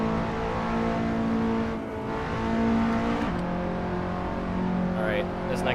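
A Honda Civic laps a race track on a first track day, its engine holding a steady drone with shifts in pitch as it accelerates and changes gear, heard from inside the car beneath someone talking.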